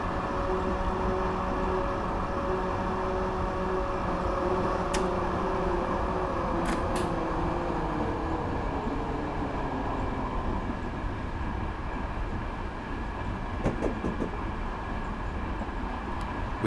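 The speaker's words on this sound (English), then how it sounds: "now I've got the dynamic brake in full" Diesel locomotive in Train Simulator 2015 on the Pacific Surfliner route from Irvine to Oceanside, dynamic brake fully applied, with a steady loud rumble and whine of the running train throughout and a few brief high squeals.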